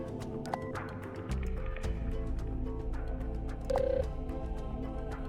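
A telephone rings in Detective Grimoire, a point-and-click video game, with short electronic ring tones rising briefly over steady in-game background music.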